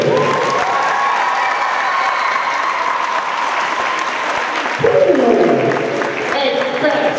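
Audience applause for a band at an anniversary celebration, dense continuous clapping with some cheering, loud and near, while a voice speaks over it and a musical tone rises near the end.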